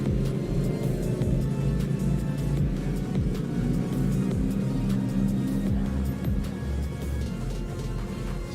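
A Can-Am UTV race car accelerates off the start line at a desert off-road race, its engine rumbling and revving in a loud, continuous drone with sharp gear-change sweeps, heard from nearby.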